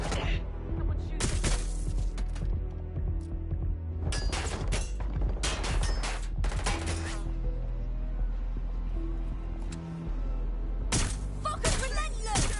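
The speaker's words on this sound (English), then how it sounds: "Taking fire." Gunfire in Watch Dogs: Legion breaks out in loud bursts of rapid shots and sharp cracks, clustered in several volleys over continuous game noise, with a voice speaking in between.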